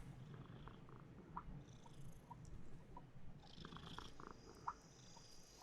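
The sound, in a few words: cat purring in bath, from the video game Life Makeover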